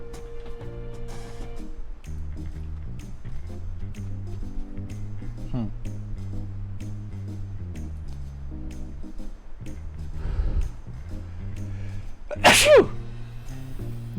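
A single sharp human sneeze bursts out near the end, loud and close, over steady game background music from a Final Fantasy XIV Dawntrail stream.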